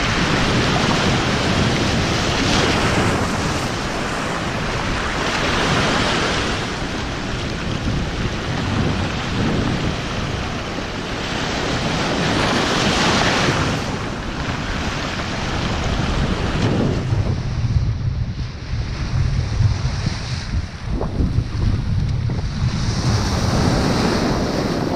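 Waves of the stormy Baltic Sea at Paldiski, Estonia, crash and surge loudly and continuously, a heavy roar of surf washing in and out with gusty wind, no voices.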